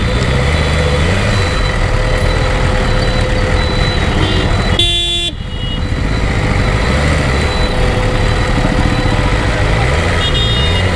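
Busy highway traffic in Varanasi, with trucks and motorcycles rumbling and idling close by, a steady loud engine drone broken by a short, sharp horn blast midway and fainter honks near the end.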